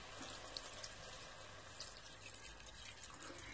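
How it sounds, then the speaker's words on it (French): A little water being poured into a pot of wine-free beef bourguignon, a steady quiet splashing trickle running continuously without pauses. "je vais mettre un petit fond d'eau"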